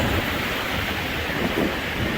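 Rough waves on Lake Michigan make a constant, loud broadband roar of surf and wind with no pauses, heard without any voices.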